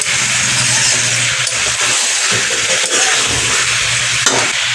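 Fried potatoes, cauliflower and eggs cook together in a hot pan in a home kitchen. The sizzling hiss is loud and continuous over a low rumble, with no speech.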